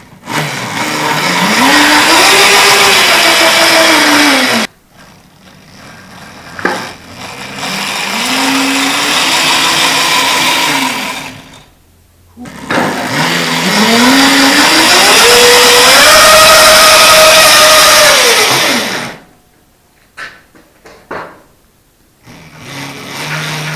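The drive motor of a homemade beehive transport cart runs in gear three times. Each time its whine climbs in pitch, holds loud and close, then winds back down, with short quiet gaps and clunks between runs.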